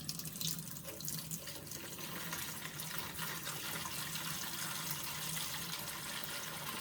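Water pouring from a Great Value filter pitcher, a steady splashing stream running continuously at low volume with no voices.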